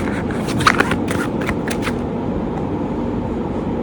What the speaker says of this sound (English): we've got 2 cards at the very beginning of me shuffling this deck.